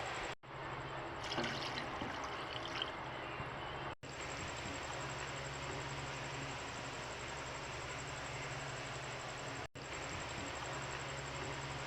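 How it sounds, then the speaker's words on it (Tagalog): Water pours steadily into a pot for cooking native chicken soup, a continuous splashing fill lasting several seconds with brief breaks, close and moderately loud. "Lagyan natin siya ng maraming tubig kasi masarap yung sabaw niya"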